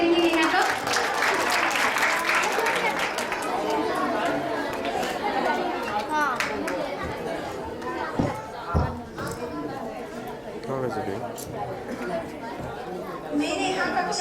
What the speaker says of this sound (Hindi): जोरदार ताली से स्वागत करेंगे नेहा का